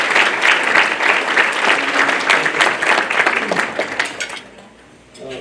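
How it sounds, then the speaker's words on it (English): Loud applause from a baseball banquet audience, a dense wash of clapping that holds steady and then tapers off near the end. "Please give them a round of applause."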